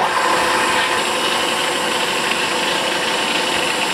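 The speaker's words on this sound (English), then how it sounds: "we got to drill 761 thousandths deep on the first hole" A drill bores a balance hole into the counterweight of a 6.2 LS crankshaft, making a loud, continuous, steady grinding whir close by with no talk.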